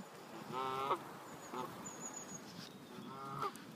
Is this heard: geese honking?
yes